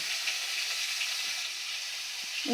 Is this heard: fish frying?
yes